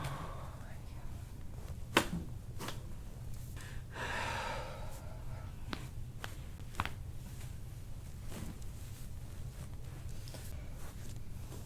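A patient on a chiropractic table draws in one deep, audible breath, a soft rushing inhale rising briefly over a quiet room, with a few sharp clicks before and after.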